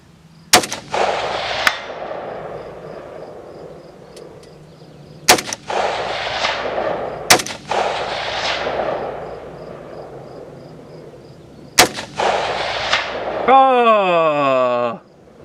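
Four loud Ruger Precision rifle shots at a long range shooting session, spaced several seconds apart with echoing tails, followed by a sweeping electronic tone at the end.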